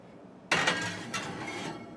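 An oven door or baking tray clatters as artisan bread dough goes into the oven, a sharp close clink followed by a second, softer metallic knock, with a low hum of background noise throughout.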